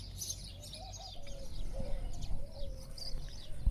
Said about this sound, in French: Les oiseaux sont vraiment très près